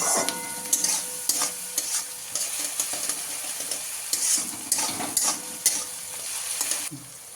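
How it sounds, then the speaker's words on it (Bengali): Onions fry in a pan with a bright, continuous sizzle, broken by repeated stirring scrapes and clatters throughout, close up and without talk. "পেঁয়াজটা একটু ভাজা ভাজা হয়ে গেছে"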